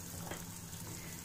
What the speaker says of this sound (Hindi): 1 ही मिनट हम शिमला मिर्च को हाई फ्लेम में सभी चीजों के साथ मिक्स करते हुए चला लेंगे